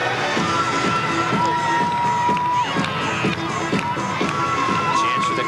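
Baseball crowd at a 1999 minor-league game between the Atlantic City Surf and Somerset Patriots, cheering and shouting loudly and steadily throughout, with whoops and whistles rising over the broad roar.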